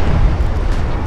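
A warship turret flash fire in Ultimate Admirals: Dreadnoughts erupts as one loud, deep, rumbling explosion that fills the short moment with heavy low-end roar.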